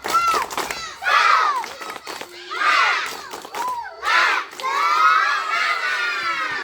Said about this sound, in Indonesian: coba Bapak akan nyuruh suaranya yang keras, tepuk tangan juga yang keras, tepuk semangat